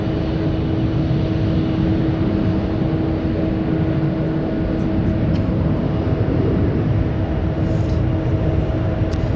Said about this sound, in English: Love that reverse thrust sound.